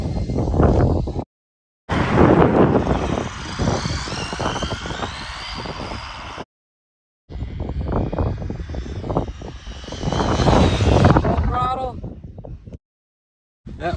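A Rlaarlo X12S RC car fitted with a Jiusi WB12Pro motor screams past in loud high-pitched bursts during a speed run, cut by short gaps, with a voice talking over it.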